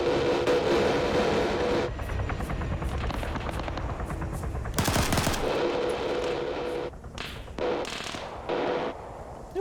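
Gunfire in a Vietnam War video game: dense rattling automatic bursts over a droning engine-like rumble, with a loud volley midway and sparser shots toward the end, no talking.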